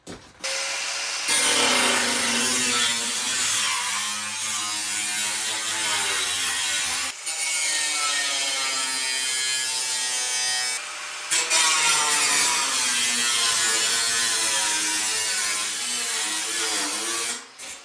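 A grinder cuts through the floor pan of a 1961 VW Beetle, a loud continuous rasping metal grind that dips briefly twice and runs alone for most of the time.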